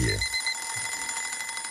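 An alarm clock rings as a morning radio segment jingle on Sud Radio, a bright electronic ringing with steady chimes and a short low thump at the start, close and clear, with no talk.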